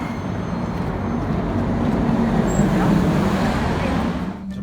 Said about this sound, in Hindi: ये तो बस है, इसके पीछे ट्राम आ रही है।